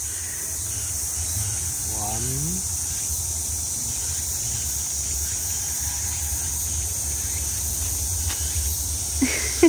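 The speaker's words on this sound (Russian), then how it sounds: "Боже мой, такие громкие эти цикады" Cicadas in Korea keep up a constant, loud, high-pitched shrill buzz that stays steady throughout, with a brief chirping sound and faint background noise underneath.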